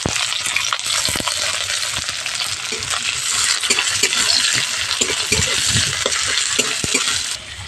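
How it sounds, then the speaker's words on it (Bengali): Chopped onions frying in hot mustard oil with cumin and green chillies, a steady close sizzle broken by repeated scraping and clinking stirs of the spoon against the pan. "পেঁয়াজটা একটু হালকা করে ভেজে নেব"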